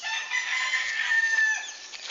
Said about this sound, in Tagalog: Muni mga manok diri nga ginakadlukan